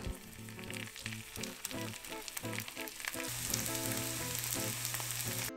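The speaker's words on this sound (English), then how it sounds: "I'm frying up the tofu now" Steady sizzling of tofu frying in a hot pan, crackling and popping close up, with faint kitchen clatter and no voices.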